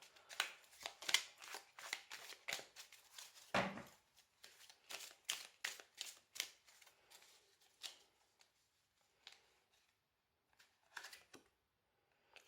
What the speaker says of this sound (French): On va tirer une carte de l'oracle du soleil